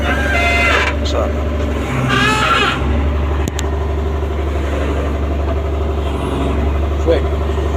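An old backhoe's engine idles with a steady low rumble, loud and close, while someone talks over it and brief higher mechanical whines come and go.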